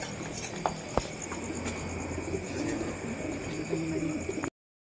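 Soft pigeon coos sound faintly against a quiet outdoor background, with a few light clicks and knocks.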